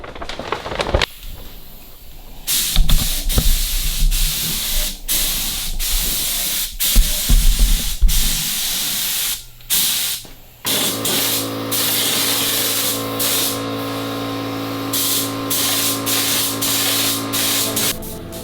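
A suction feed spray gun hisses steadily while priming the floor pan of a 1974 VW Super Beetle, with repeated short bursts and pauses, then a longer continuous spray, loud and close.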